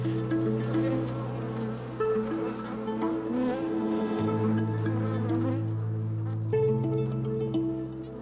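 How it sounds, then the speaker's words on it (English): Many honeybees on a hive frame hum in a dense, continuous drone close by, with pitch shifts as individual insects move near and away. "you can see the bees still working on the frame, walking around and doing their little chores"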